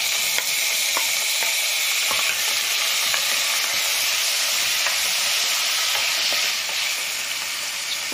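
Tomatoes frying with ginger garlic paste give a loud, continuous close sizzle with light stirring scrapes mixed in, and no voices.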